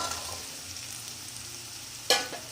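Washed, sliced carrots hit hot oil in a pan for a carrot sabzi, a low steady crackle of frying joined by a sudden louder burst of sizzle near the end, with no talking.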